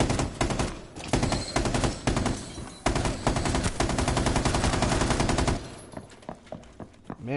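Rapid automatic gunfire from a weapon in the video game Rainbow Six Siege, with loud sustained bursts separated by brief pauses, then sparser single shots and clicks toward the end, with no speech.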